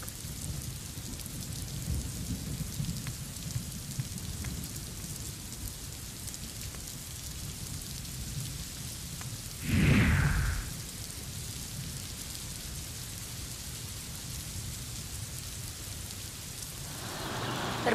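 Heavy monsoon rain pours steadily near Kalyan in Maharashtra, a constant hiss broken by a brief loud thunder crack midway and a faint rumble near the end.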